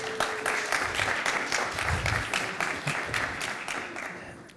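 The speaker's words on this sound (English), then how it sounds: "You can give like a round of applause, maybe." Conference audience applauding after a speaker introduces a startup CEO at a tech talk: a steady, dense wash of clapping that holds for several seconds and then thins out toward the end.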